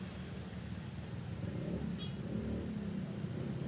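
A jeepney crowded with passengers rolls through a checkpoint at the San Mateo, Rizal and Quezon City boundary before dawn, its engine a steady low rumble, close and continuous without voices.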